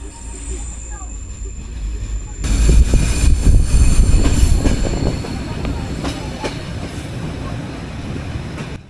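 A train on Norway's Flåm mountain railway rumbles along the rails, growing suddenly louder with rattling wheels and faint squeals, then settling into a steady clattering roll.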